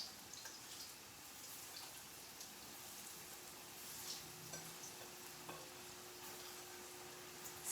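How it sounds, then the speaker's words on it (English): Eggplant pieces frying in hot oil in a pan while making Pasta alla Norma, giving a soft, steady sizzle and crackle with faint pops, quiet and continuous with no talking. "And I only need to fry it for a couple minutes."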